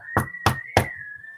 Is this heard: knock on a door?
yes